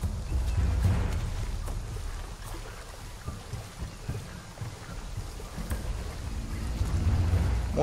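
Steady rain hiss with low rumbles of thunder rolling underneath in Shadow of the Tomb Raider, a continuous stormy ambience with no voices.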